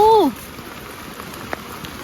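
Heavy rain falls steadily over rice fields as a dense hiss, with a short voice right at the start and a few louder drips.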